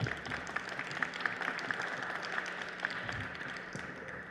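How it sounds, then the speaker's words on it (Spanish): Audience applause at a book presentation for a children's superhero series, a steady wash of clapping held at an even level for several seconds, somewhat distant with faint tapping accents. "También pedimos un aplauso para ellos,"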